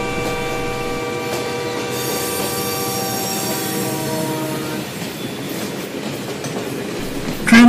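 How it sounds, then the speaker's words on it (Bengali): A train rolls slowly into a station platform with squealing wheels and a rhythmic clickety-clack. The sound is loud and close and keeps going throughout, and tonal squeal lines fade out partway through. "আরেকটি ট্রেন ধীরে ধীরে প্ল্যাটফর্মে ঢুকছে"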